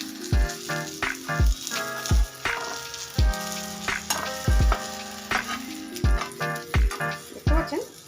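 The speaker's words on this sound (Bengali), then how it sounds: "দেখতে পাচ্ছেন, 2 সাইডেই খুব ভালোভাবে ভাজা ভাজা হয়ে গেছে।" Egg-coated eggplant slices frying in a pan, a continuous hot sizzle broken by repeated sharp low knocks and scrapes of a utensil against the pan at a fairly regular pace.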